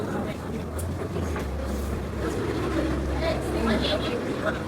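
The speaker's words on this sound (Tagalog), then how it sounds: "Masyadong maingay dahil madaming sasakyan." Dense roar of heavy street traffic from many vehicles, with continuous engine rumble and a low drone rising and falling, loud and unbroken, with people's voices faintly mixed in, near a roadside spot where chicken is sold.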